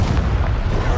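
A Confringo blasting curse explodes in Hogwarts Legacy, a dense, loud low rumble of booming game combat that rolls on steadily through the short moment without a clear single crack.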